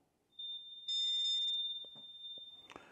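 A locator alert from OpenRock X open-ear sport earbuds: a loud, piercing steady high beep tone, sounding alone, followed by a few faint handling clicks and rustles.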